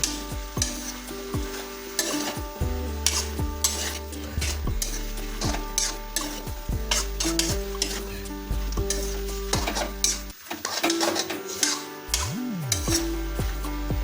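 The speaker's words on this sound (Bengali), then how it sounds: "তলাইটা যোগ করে দিচ্ছি, এটাকে আমরা আরও প্রায় মিনিট 2 ধরে মিডিয়াম ফ্লেমে কষিয়ে নেব" A wok of monsoon mixed vegetables with rohu fish head, shrimp and fried peanuts, stirred over medium flame, gives a loud, continuous sizzle with repeated scraping and clattering stirs throughout, and no talking.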